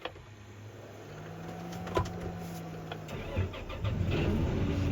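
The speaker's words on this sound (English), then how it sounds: "go ahead and start your tractor back up" A tractor engine is cranked and starts, beginning with a click and a whirring starter, then catching into a steady running rumble that grows louder toward the end.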